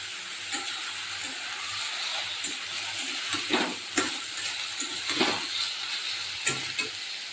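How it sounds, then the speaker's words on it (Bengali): Potato pieces frying in oil with whole cumin seeds, a steady broad sizzle with scattered crackles and a few sharper stirring scrapes spaced through the clip, close and continuous, no voices. "এই যে আমার আলু ভাজাটা হয়ে গেছে লাল লাল করে আমি ভেজে নিয়েছি"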